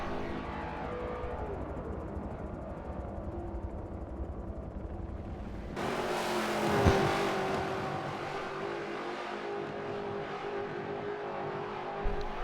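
Stock-car engines from the WRL VASC Dollar General Clash racing game drone steadily in the distance, then swell louder as a car roars past with a brief revving surge before settling back into a continuous hum.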